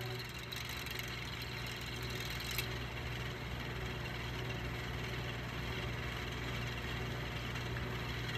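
A Marvin Model 1015 10-inch single window fan runs with a steady, even mechanical hum and a low drone throughout, with no talk over it.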